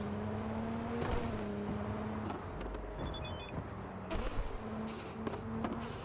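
Car driving in the video game Cyberpunk 2077, a steady engine hum with shifting pitch, sweeping pass-bys and a brief electronic chirp, fairly quiet and continuous with no talking.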